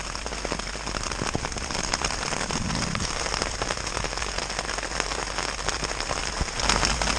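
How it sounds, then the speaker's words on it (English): Heavy rain pours steadily during a bikepacking trip in Western Australia, a dense continuous hiss of drops pelting a nearby surface, loud and unbroken throughout with no voices. "It's currently raining like mad right now."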